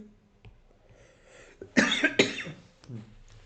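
A person coughs in a quiet room: a short cluster of two or three harsh, close coughs, preceded by faint breathy throat sounds.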